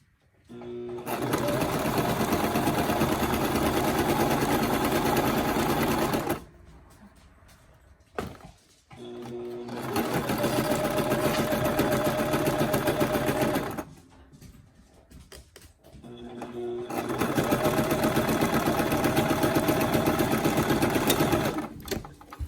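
A sewing machine runs a seam on a homemade fabric face mask in three long steady bursts, close and loud, with short quiet pauses between runs.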